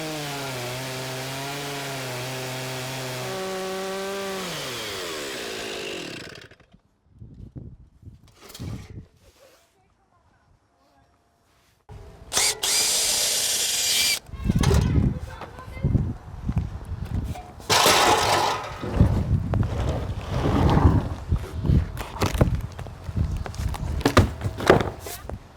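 Stihl 090 chainsaw milling curly, spalted hard maple, heard as a loud, near, uneven roar that cuts in after a quiet stretch, following an opening of harmonic tones, with rough surging bursts as the chain bites the wood.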